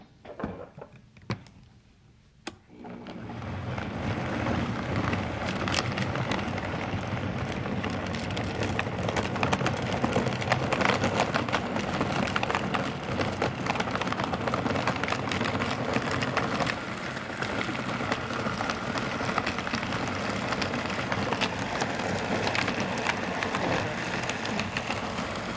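A blender whirs a smoothie of banana, ice and water in a kitchen, starting with a few clicks and then running steadily and loudly for the rest of the time.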